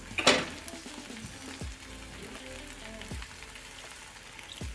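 Water added to beans frying in a pan with pork fat bursts into a loud sizzle, followed by steady frying crackle and a few soft knocks of a stirring utensil.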